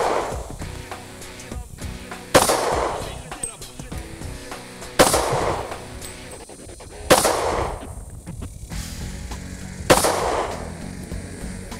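Pistol shots fired at an open outdoor range during a Texas concealed carry qualification ring out as five loud, sharp reports spaced about two to three seconds apart, each with a ringing tail, and a voice is faintly present in the background.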